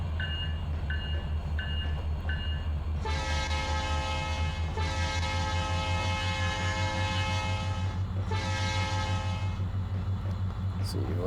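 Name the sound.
train sounds from Trainz 2022 video game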